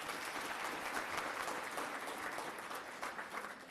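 Audience at a book launch breaks into steady, dense applause, a continuous wash of clapping hands that holds evenly throughout without voices.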